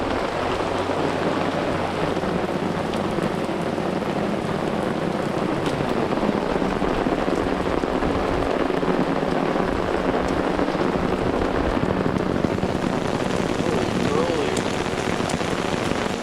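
Steady rain pours down at a mountain campsite, a dense continuous hiss of drops on surfaces with a low rumble underneath, constant and fairly loud throughout.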